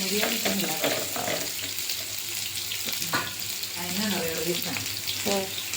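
Onions fry in hot oil for a Kerala chutney, making a dense close sizzle with intermittent stirring scrapes and some watery splashes, while a voice talks faintly underneath.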